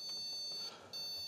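IBM PC 5150 beeping at power-on, a high, thin electronic tone that sounds steadily, cuts out briefly and resumes, close and alone without talk.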